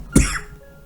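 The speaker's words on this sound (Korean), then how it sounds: "기침이 나갖고 기침 좀 했습니다" A single sharp cough bursts out close to the microphone, short and loud, then fades quickly into quiet room tone.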